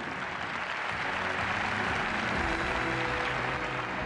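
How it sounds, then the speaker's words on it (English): A large arena audience applauds a rhythmic gymnastics team at a tournament in Japan, a broad, even wash of distant clapping and crowd noise holding steady throughout. "The team is rewarded with the biggest round of applause at the tournament so far."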